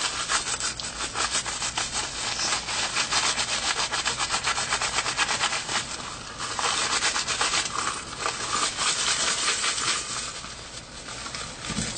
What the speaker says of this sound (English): Rubbing it pretty hard.